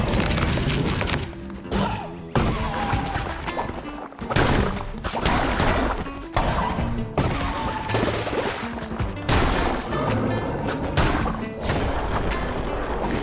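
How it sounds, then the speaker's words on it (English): Rapid, dense volleys of magic missiles fired during a boss fight in Cult of the Lamb, a near-continuous barrage of loud crashing impacts and whooshes layered over busy game music. "We'll spray magic missiles at them."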